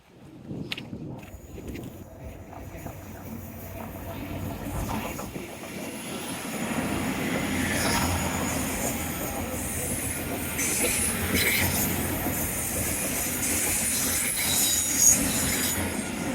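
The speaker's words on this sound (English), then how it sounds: "Now that one was the replacement train for my train, believe it or not" A train passes at Teignmouth, its rumble and rail noise swelling from a distance and holding steady and loud as it goes by, with faint wheel squeal.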